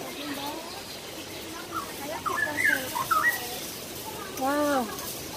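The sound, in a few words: birds chirping in Hong Kong Park aviary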